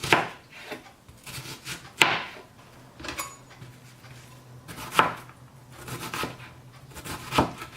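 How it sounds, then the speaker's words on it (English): Half an onion being finely chopped by hand with a knife on a board for cheese enchiladas: a run of close, sharp knife strikes coming in uneven bursts, with quieter gaps between the cuts. "I'm gonna chop my onions now. We want kind of fine."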